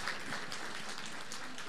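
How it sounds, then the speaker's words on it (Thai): Wedding guests at a Thai engagement ceremony applaud, a dense, even wash of clapping at moderate volume that holds steady for the whole stretch. "ปรบมือให้ท่านอีกครั้งนะคะ"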